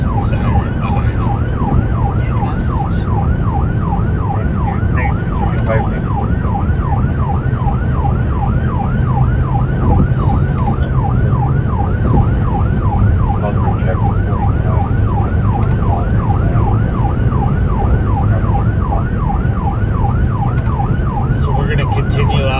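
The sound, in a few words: emergency vehicle siren on patrol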